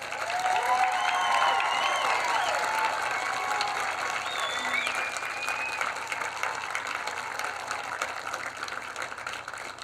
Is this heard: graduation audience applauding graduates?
yes